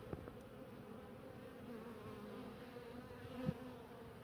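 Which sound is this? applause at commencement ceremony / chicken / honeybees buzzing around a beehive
honeybees buzzing around a beehive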